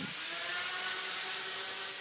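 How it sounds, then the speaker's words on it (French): A chainsaw carving a block of polystyrene gives a steady, dense, loud buzzing roar that runs unbroken for the whole stretch. "D'abord taillés à la tronçonneuse, ils sont ensuite affinés au cutter"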